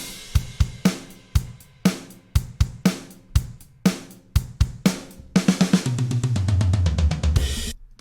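Programmed Logic Pro X stock drum kit playing a steady beat of sharp kick and snare hits, then rolling into a rapid fill over a rising wash of cymbals near the end.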